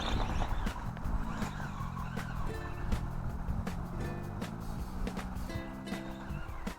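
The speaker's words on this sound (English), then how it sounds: "I think the pinions are loosening up a little, starting to mesh nicer" A brushless Tamiya Holiday Buggy RC car with an aluminum pinion on a plastic gear runs on a track, its motor whine rising and falling continuously, loud and busy throughout with no talking.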